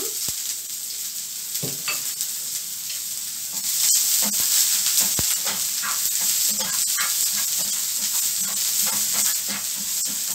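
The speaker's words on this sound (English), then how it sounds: "Our pan is really hot and our oil is hot too. So we are going to add our onions, sliced onion." Sliced onions fry in hot oil in a very hot pan, producing a close, loud, steady sizzle and hiss broken by sharp clicks and scrapes as they are stirred.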